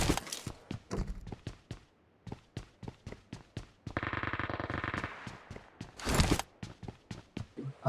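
Gunfire in PUBG Mobile rings out as a series of sharp single shots spread across the clip, with one sustained burst of automatic fire in the middle, echoing slightly and moderately near.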